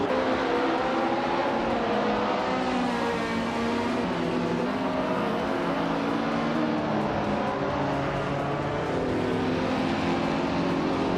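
Race cars, a vintage Lola T290 among them, circle in a race with a continuous loud engine drone and layered motor whine, no pauses or distinct pass-bys.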